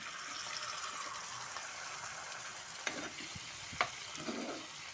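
Boiled chana dal is tipped into a pan over medium heat and stirred, giving a faint, steady sizzle with a couple of spoon clinks and soft scraping, no speech.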